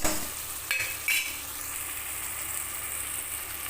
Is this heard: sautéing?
yes